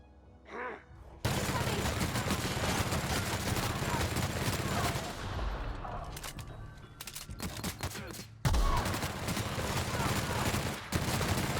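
Sustained light machine gun fire in a shooter game, dense rapid bursts running nearly nonstop at high volume, with a couple of brief gaps and a short lull before the firing resumes.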